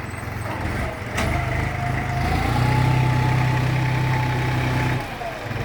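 A new tractor engine idles steadily while pushing soil in a cramped fill area, a close, continuous low rumble with a faint rising whine and no talk.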